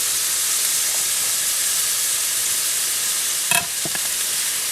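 Chopped garlic frying in hot oil in a pan, a steady broadband sizzle and hiss with a brief louder crackle and stir near the end, close and alone without talk.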